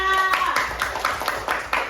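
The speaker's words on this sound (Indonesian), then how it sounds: "Tepuk tangan untuk kelompok 3." A primary school class claps for a group of pupils, a quick run of rhythmic hand claps over a steady background tone, with a voice briefly heard at the start.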